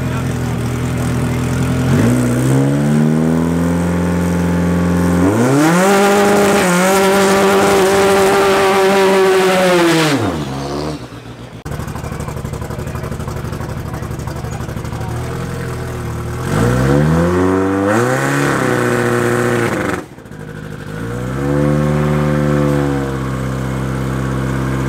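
A Honda K-Series powered drag race car revs hard with loud, rising engine sweeps at a club drag strip event. Several high-revving pulls are broken by abrupt cutoffs and brief idle gaps, loud and close.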